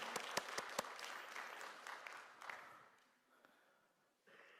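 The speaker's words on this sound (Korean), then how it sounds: "박수를 주시면 더 좋겠습니다" Applause from a church congregation during a pastor's sermon greeting, starting with a few sharp close claps, then a softer scattered patter that fades before a brief swell at the end.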